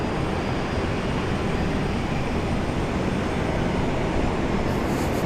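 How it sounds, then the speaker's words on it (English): A Korean Air airliner takes off from runway 19 right at Brisbane International Airport, a steady, loud, broadband jet roar that holds evenly throughout with no voices. "Runway 19 right, clear for takeoff. Korean Air 408."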